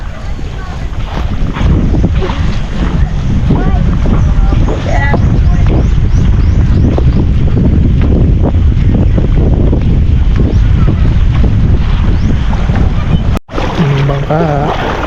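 A steady, loud motorboat engine drone at sea off Cagbalete Island, with rushing wind and water noise throughout, briefly cutting out near the end.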